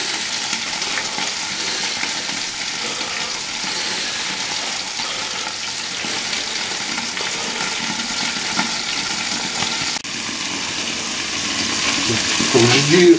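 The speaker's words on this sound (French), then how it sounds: "Ça cuit au moins 20 minutes, voire une demi-heure, les brocolis." Broccoli cooks in a covered pan, giving off a continuous close sizzle and bubbling hiss that holds steady, then swells louder in the final seconds.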